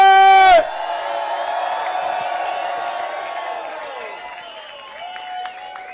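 A festival crowd roars and cheers at the end of a drift festival after a voice on a loudspeaker calls out, the broad cheering holding steady and slowly fading while music starts in the background.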